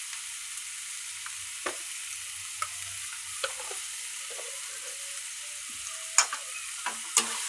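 Spices sizzle and fry in a pan with a soft, steady hiss, punctuated by occasional scraping stirs and clicks of the spoon against the pan, close and alone.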